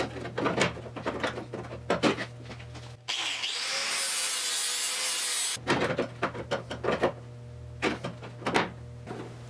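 On a 1974 Triumph TR6 restoration, a grinder runs against the metal of the rear valance on the car body for a few seconds, a loud sustained harsh whir sitting between bursts of scraping and clattering workshop noise.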